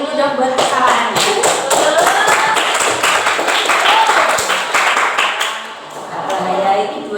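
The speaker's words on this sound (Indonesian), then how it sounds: "Tepuk tangan dulu dong buat kesalahannya." A classroom of schoolchildren claps in quick, uneven bursts close by, with voices chattering and calling out underneath and a brief dip in the clapping near the end before it picks up again.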